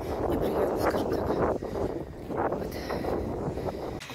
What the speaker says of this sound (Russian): Ветер на улице.